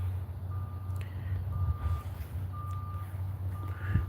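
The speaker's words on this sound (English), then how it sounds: "Something's beeping." A truck's reversing alarm beeps steadily, four evenly spaced tones at a moderate distance in a cold outdoor yard, over a low engine rumble.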